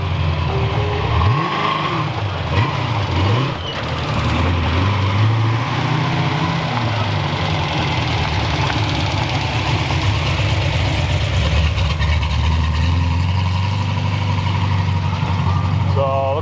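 Car engine revving through a run on an abandoned racetrack, with loud, close rising and falling revs, then a stretch of steady rumble, and a voice talking over it.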